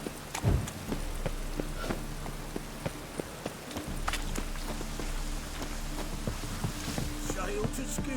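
Steady rain falls in a town setting in The Witcher 3, a soft continuous hiss with scattered drop ticks and occasional footsteps or hoof clops, lasting throughout with ambient game sounds beneath.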